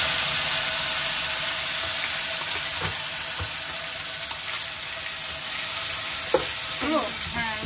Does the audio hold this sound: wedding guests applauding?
no